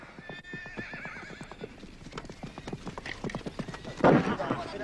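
Many hooves clatter in quick, uneven rhythm as a herd of horses gallops, with loud whinnies breaking out near the end and voices shouting beneath, in a Western film.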